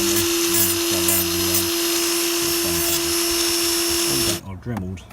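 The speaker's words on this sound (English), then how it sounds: "Trim it off with a sander and then just go around" A sander grinds steadily against the rubber handlebar grip on a Gen 2 Suzuki Hayabusa being fitted with Oxford sports heated grips, a loud high whine with a pulsing pitch that runs for several seconds and then cuts off. Voices come through near the end.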